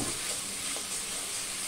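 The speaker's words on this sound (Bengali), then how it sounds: "এখন আমরা সিদ্ধ করা রাখা বটটা দিয়ে দিব।" Boiled goat tripe hits hot oil in a pan, giving a steady, close, loud frying sizzle that holds even for under two seconds with no talking.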